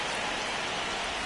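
Steady rain falling over a baseball field in MLB The Show 26, an even, dense hiss of drops with no breaks, moderately loud and unchanging.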